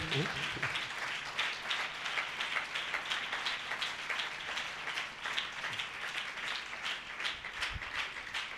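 A church congregation keeps clapping in a steady, dense wash, with a voice speaking over the applause at points.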